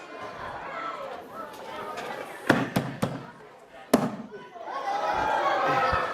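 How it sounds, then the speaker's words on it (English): Liquid nitrogen cannon at a children's science lecture, corked so pressure builds until the cork blows out, giving a few sharp pops amid crowd chatter and talk, followed by audience reaction. "If I cork it up, a high pressure develops, and that's why we call it the liquid nitrogen cannon"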